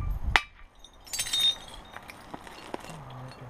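Flintknapping on a flint piece: a sharp stone-on-stone click, then a brief gritty scrape and a few lighter taps, close and fairly quiet.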